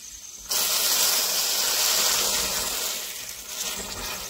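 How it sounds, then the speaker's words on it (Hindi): Hot oil tadka with garlic poured into a pot of gahat dubke, bursting into a loud, sustained sizzle and hiss that slowly eases off. "अब मैं इसमें मारता हूँ तड़का।"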